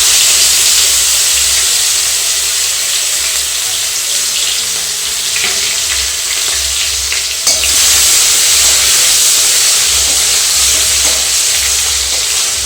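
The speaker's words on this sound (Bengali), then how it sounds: "কড়াই আমি 3 চামচ তেল দিয়েছি। এবারে দিয়ে দিচ্ছি টমেটো কুচনো" Chopped tomatoes hit three spoonfuls of hot oil in a kadai while cooking brinjal siraji, giving a loud, continuous hissing sizzle with a brief scrape partway through; nobody speaks.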